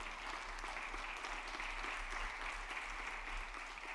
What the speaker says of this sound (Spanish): Dale un aplauso al Señor, está preparado